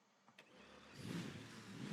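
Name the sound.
car engine running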